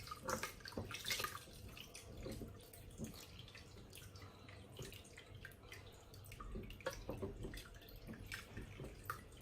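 Water splashes and trickles into a container in uneven bursts as lemon-curdled cheese for rasgulla is rinsed and stirred with a spoon, with clinks and sloshing throughout, fairly close.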